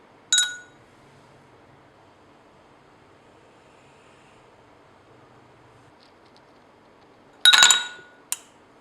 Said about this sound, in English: in order to quench any remaining aluminium iodide we added a couple of ice cubes